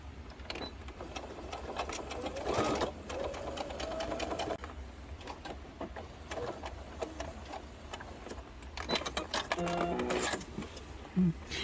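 A sewing machine stitches a padded-lining round zipper pouch with a continuous close, rapid whirring rattle, steady throughout with slight surges and a few soft clicks.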